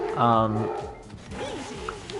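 A dog gives a short bark and whine in a home, brief and fairly close, followed by quieter yips and whimpers.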